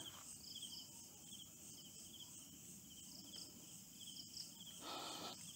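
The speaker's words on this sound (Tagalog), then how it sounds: "Tanging kuliglig na lang po naririnig natin" Crickets chirping steadily at night at a campsite in Bolinao, a continuous high trilling pulse that carries on alone without voices, soft and even.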